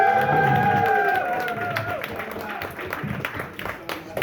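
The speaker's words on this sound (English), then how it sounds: "Give it up for Dan." Comedy-night audience applauding and cheering for the host, with whoops and raised voices over the start, then scattered clapping fading to a thinner patter as someone talks.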